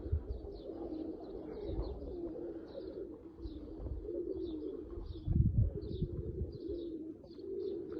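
Oman Teddy pigeons coo softly in repeated short bursts over a low background rumble, with a faint rustle partway through.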